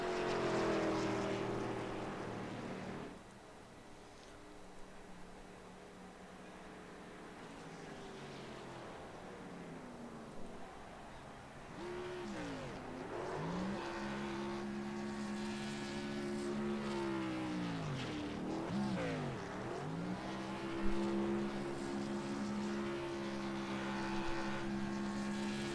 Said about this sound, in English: Pretty good at the burnouts.